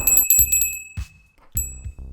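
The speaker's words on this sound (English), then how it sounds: "Every time we ring this beer bell, something great happens." A small beer bell rung by hand, three bright metallic ding bursts with ringing overtones, the last struck after a short pause, loud and close.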